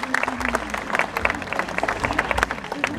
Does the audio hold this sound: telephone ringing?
no